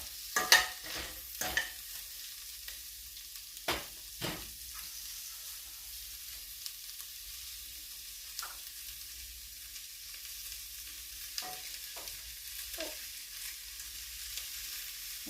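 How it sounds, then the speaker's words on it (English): Cabbage sizzles steadily in a pot with corned beef while a utensil stirs it, scraping and knocking in scattered sharp strokes, loudest early on. "it's good to stir this while you add your cabbage"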